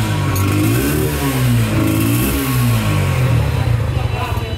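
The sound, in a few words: new motorcycle engine revving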